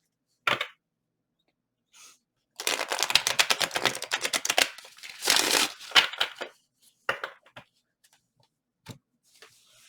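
Tarot cards being shuffled up close: rapid riffling bursts of crisp flapping clicks, with scattered taps and pauses between.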